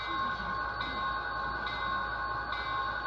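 A steady, ringing bell tone from an HO scale model train locomotive repeats at an even pace, sounding continuously over a constant mechanical hum.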